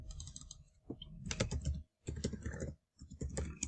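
Someone types on a computer keyboard, with quick bursts of close key clicks broken by short pauses, clear and alone.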